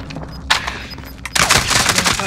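Rapid bursts of automatic gunfire in the Call of Duty Rebirth video game, a short volley followed by a louder sustained burst, close and punchy.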